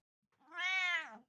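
A house cat gives one clear, close meow, rising then falling, alone in a quiet room.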